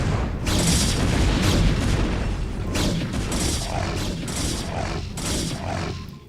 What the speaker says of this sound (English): 1 dragon just walked into the photon cannon fire.